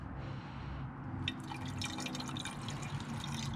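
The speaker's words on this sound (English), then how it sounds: "Start adding some water" Water poured into the empty coolant system of a BMW 335i with an N54 engine, a steady close trickle and splashing with light dripping, continuous throughout with no talk.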